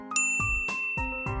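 Bright bell-like dings of a notification sound effect ring out four or five times in quick succession, each clear metallic strike decaying briefly before the next.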